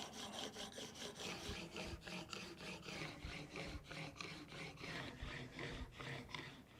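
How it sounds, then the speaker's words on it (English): A steel blade is stroked back and forth on a fine sharpening stone, giving a steady, rhythmic gritty rubbing of roughly a dozen even strokes, close and fairly quiet, with no voices. "So we'll do our fine stone here, and then we're going to strop."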